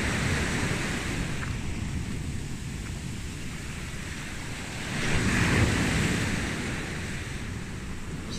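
Sea waves wash onto a beach with a steady rushing surf and wind noise on the microphone, swelling into a louder breaking wave about midway before settling back, with no voices.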